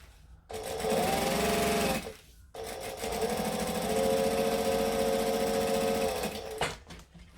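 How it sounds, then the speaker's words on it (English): Close-up sewing machine stitches canvas for a small pencil case in two runs, a short burst then a longer steady stretch, its motor humming with a rapid needle chatter before stopping. No one talks. "I'm also deliberately sewing slower so that it won't make the camera jump for you guys"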